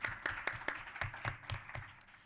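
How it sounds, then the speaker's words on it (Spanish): An audience claps for a round-table panelist at a talk on youth and the future of food, giving a brief, moderately loud burst of steady applause with closely spaced claps that tapers off toward the end. "Un aplauso, Germán, muchas gracias"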